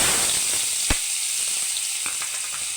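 Close, steady sizzle of crushed ginger and garlic frying in oil after mustard seeds have popped, with a few faint clicks and taps of stirring over the hiss.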